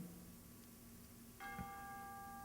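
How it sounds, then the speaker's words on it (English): Bow bells ringing in London, a faint, distant bell strike with a lingering hum that rises partway through against quiet background, with no speech. "Bow bells are ringing 6."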